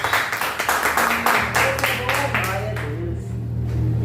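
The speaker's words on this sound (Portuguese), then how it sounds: "Você pode aplaudir o Senhor Jesus?" Church congregation applause during a Bible study, a round of scattered clapping that thins out and stops, with a low sustained instrument tone entering underneath and a voice speaking briefly.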